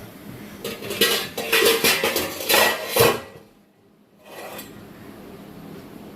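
A metal steamer pot (appachembu) is washed and set down with water, giving close metallic clatter and scrubbing for a few seconds, a brief lull, then softer handling sounds.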